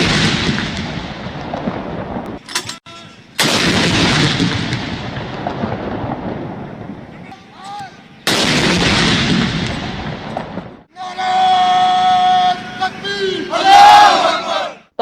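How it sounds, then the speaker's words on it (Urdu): A 21-gun cannon salute fired at a ceremony in Pakistan's capital, heavy booms roaring out and decaying one after another between stretches of crowd noise and chanting, with a brief sustained tone near the end. "21 توپوں کی سلامی دی گئی۔"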